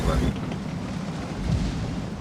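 Artillery fire in a tank battle video game: a loud, dense low rumbling boom swells at the start and again around the middle, over continuous heavy battle noise.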